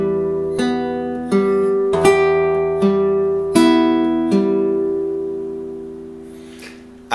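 Fingerstyle acoustic guitar plays measure 8 of a piece from Kung Fu Panda, with six or so plucked notes and chords ringing over a sustained bass, then fading out alone.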